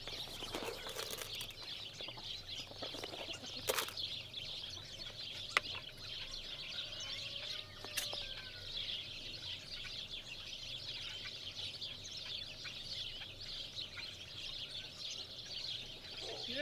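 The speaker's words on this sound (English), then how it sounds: "Well, the birds are happy enough." Farm chickens clucking softly and steadily in the background on a winter morning, a few louder knocks and handling sounds breaking through, all fairly faint and distant.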